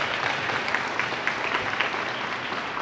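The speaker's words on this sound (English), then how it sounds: "so Mayor Reeves, give him a round of applause." An audience claps in a school gym at a DARE event, producing a sustained, even burst of applause that fills the room. The clapping is dense and steady from start to finish, with no clear speech.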